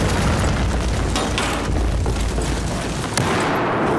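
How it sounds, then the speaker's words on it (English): A Claymore mine detonates in a Battlefield 4 multiplayer match, a loud, dense boom with a rumbling body that fills the mix and breaks off abruptly near the end. "Another Claymore."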